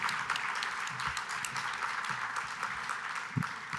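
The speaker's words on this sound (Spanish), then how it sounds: "Un aplauso, por favor," At a business conference, the audience greets speaker Macarena Navarrete with a soft, distant wash of steady applause that continues throughout with no speech over it.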